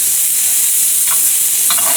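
Onions sauté in chicken fat in a pan, a loud, dense, continuous hiss of frying close up, with a couple of faint stirring scrapes.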